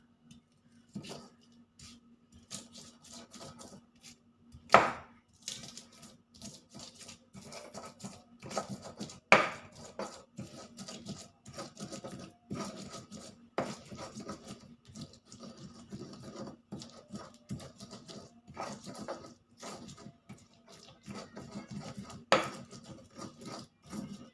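Boiled bird's eye chili peppers ground with a mortar and pestle for ketoprak, a steady stream of scraping, grinding strokes with a few sharper knocks, close and alone for over twenty seconds.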